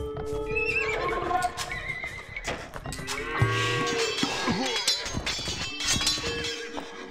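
A horse neighs in the Age of Empires 2 HD video game during a 2v2 Arabia match with Vikings, a clear whinny amid busy battle sounds, clip-clop and cattle moos from the game.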